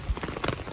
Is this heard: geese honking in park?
no